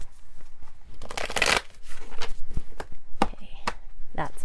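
Tarot cards are shuffled by hand in a messy, uneven way, with close bursts of riffling and slapping cards, one longer riffle and scattered short taps, while a voice talks throughout.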